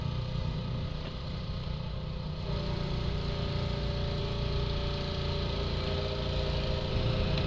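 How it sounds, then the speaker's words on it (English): Lawnmower engine running at a steady idle, a constant low mechanical chug at moderate distance, a faint whine joining partway through, no talking. "Don't tell me you can start that lawnmower up."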